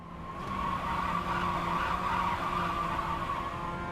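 Race car tires squeal and skid under hard braking at Barber Motorsports Park in a racing game, a steady sustained screech with engine drone beneath, loud and continuous throughout.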